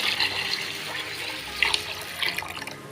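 Water pours steadily over a bowl of mixed millet and sorghum grains set to soak for dosa batter, a continuous splashing rush with a few brighter sloshes, no talk.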